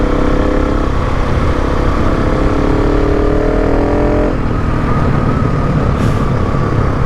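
A loud, close KTM 690 Enduro R dirt bike engine drones steadily with a harsh exhaust rasp, its pitch rising as it revs climbing hills and then dropping back.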